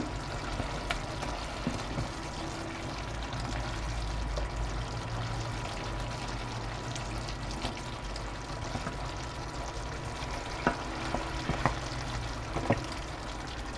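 Cooked chicken DG, Cameroonian style, stirred in sauce in a pan over low heat, giving a steady soft sizzle and liquid bubbling with a few brief scraping clicks, close and moderately quiet, with no talking.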